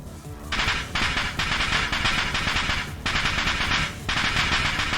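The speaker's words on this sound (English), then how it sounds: "A dust explosion." A dust explosion in the game Steins;Gate Elite comes as a loud, dense roaring rush that cuts in and out in several abrupt surges, filling the scene without voices.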